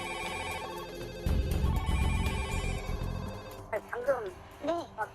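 Several telephones at a fire station in Siheung, Korea ring at once in the evening, with a steady layered ringing under loud bursts of nearby voices and a caller's speech on the line.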